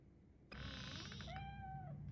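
A cat in the video game RoboCop: Rogue City gives a single drawn-out meow, close and fairly quiet, over a low, steady background hum in a basement.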